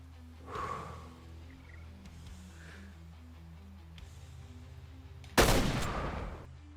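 A single loud rifle shot cracks out near the end, fired at an animal in a hunting video game, over a low steady game soundtrack with faint earlier rustles.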